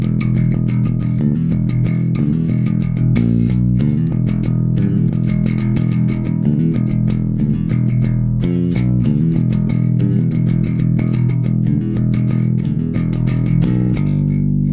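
Electric bass playing a speed-metal riff, fast driving palm-picked notes repeated three times in a steady galloping rhythm, close and loud with no voice.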